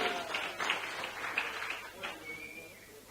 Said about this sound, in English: Shadrach Angira, a big clap for him.